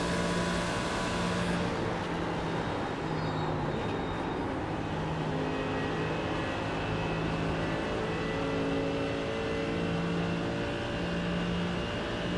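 Race car engines in the racing game iRacing drone and whine steadily, with tones shifting up and down as cars, including Audis, rev and pass.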